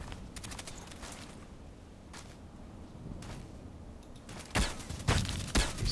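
Gunfire in a sniper video game: scattered sharp shots and short bursts at a distance, growing louder and denser toward the end, with several close cracks in the last seconds.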